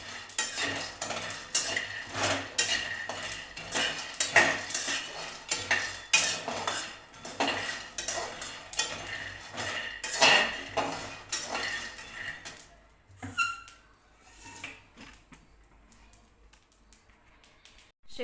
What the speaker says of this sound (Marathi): शेंगदाणे लसूण आणि जिरे व्यवस्थित असे भाजलेले आहेत